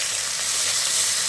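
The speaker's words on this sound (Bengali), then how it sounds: "দিয়ে দিলাম পেঁয়াজ কুচি" Chopped onions with black cumin, bay leaf, cinnamon and cardamom fry in a generous amount of hot oil, giving a steady, close, loud hiss and crackle with no talking.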